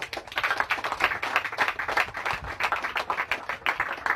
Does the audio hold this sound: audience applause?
yes